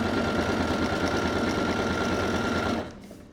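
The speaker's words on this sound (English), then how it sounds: "the quilt is kind of making its way right through my machine" A sewing machine stitching through a hexagon quilt runs steadily with a loud, even mechanical whir, then winds down and stops near the end.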